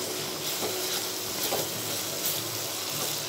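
Food frying in a pot for Telugu bajji pulusu, a steady close hiss and crackle with faint stirring scrapes, no voices.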